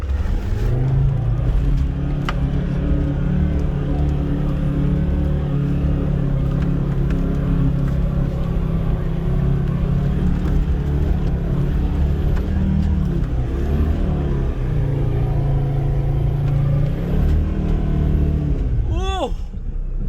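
A Ford Ranger Wildtrak's five-cylinder engine labours up a steep hill in a loud continuous drone. Its pitch holds steady, dips briefly and then picks up again, and near the end a rising whine is heard.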